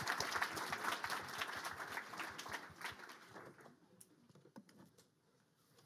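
Audience clapping at an Android app demo day held at Google headquarters, fairly quiet and distant, dense at first and then thinning to scattered individual claps over about six seconds.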